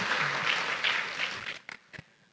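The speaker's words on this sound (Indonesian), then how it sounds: "kurang semangat tepuk tangannya" A congregation at a Christmas service in church applauds in a dense, steady wash of clapping that fades out into a few scattered final claps.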